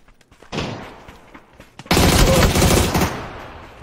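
Video game gunfire from a battle royale match: scattered single shots at first, then a loud, sustained burst of rapid automatic fire that fades out near the end.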